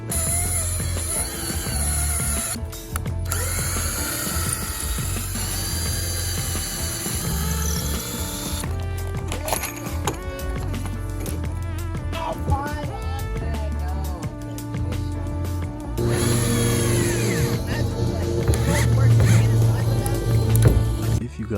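A power drill drives 3-inch drywall screws into scrap wood in bursts of whirring, with pauses between runs and steady background noise underneath.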